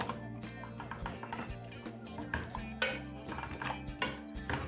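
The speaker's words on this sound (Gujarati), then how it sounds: "હવે આપણે એને મેશરથી મેશ કરી લઈએ" Repeated soft thuds and metallic clatter as a masher presses cooked dal in a pot, in an uneven rhythm.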